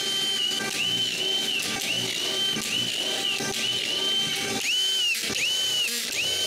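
Screws are driven into wood with a power drill in a series of short high-pitched whirring bursts, each starting and stopping abruptly, with quiet gaps between.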